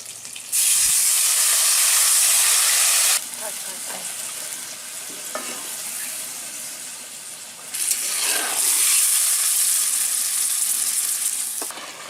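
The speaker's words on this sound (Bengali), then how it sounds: "এবার দিয়ে দেব সামান্য জল।" A little water is poured into a hot pan of oily fish curry in a Bangladeshi village kitchen. It bursts into a loud, hissing sizzle with steam, eases to a steadier fry, then surges loudly again.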